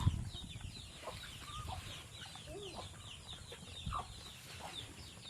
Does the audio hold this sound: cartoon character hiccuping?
no